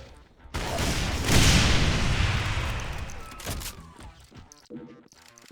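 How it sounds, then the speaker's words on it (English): In a Doom mod, grenades explode with a heavy boom and a long rumbling roar that fades over a few seconds. Sharper crackling gunfire snaps follow, and a voice speaks over the blasts. "Grenades!"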